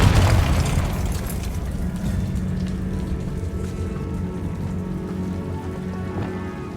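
The Confringo blasting spell from Hogwarts Legacy goes off in a loud burst at the start, then rolls into a long, dense crackling rumble that slowly fades away, with no speech.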